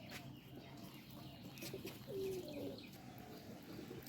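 A sick pigeon that has flown back to its nest gives a few soft, low coos midway, close by and faint, over a quiet room background with a few light chirps.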